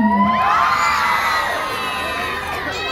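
Crowd at a Miss Gay pageant national costume segment in Quezon City screams and cheers loudly, a sustained high-pitched roar of shouting and whoops throughout.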